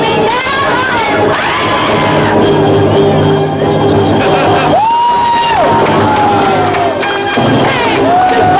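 Children at the Legoland fire department show scream and cheer loudly as a crowd, with long high-pitched shrieks rising over a constant roar of voices.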